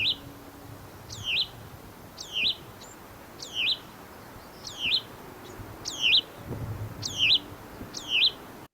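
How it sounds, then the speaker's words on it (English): A Hutton's vireo calls repeatedly in the open, a steady series of about nine sharp, rising two-part notes spaced under a second apart, clear and fairly close over a faint background hum. "Here's a Hutton's vireo calling."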